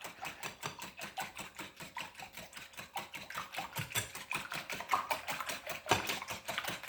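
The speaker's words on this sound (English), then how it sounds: "I'm just going to show you how to whisk properly." A whisk beats pancake batter in a bowl with fast, even, rattling strokes, a steady repetitive clatter that stays close and fairly quiet, with no voices.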